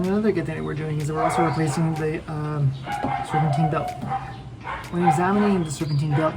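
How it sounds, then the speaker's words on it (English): Dogs bark repeatedly in the background during a 2003 Honda CR-V starter and serpentine belt repair, yips and barks mixed under continuous close talking. "Sorry about the dogs barking."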